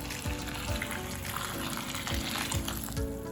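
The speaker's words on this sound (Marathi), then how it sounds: "आता हे बुडेपर्यंत पाणी ओतायचं" Water is poured over washed puffed rice to submerge it for soaking, giving a steady splashing, trickling wash of sound at moderate level throughout, with no talking.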